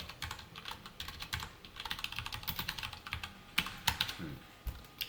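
Fast, steady typing on a computer keyboard, close and clear, a continuous run of clicky keystrokes with a few harder taps near the end while Korean text is entered.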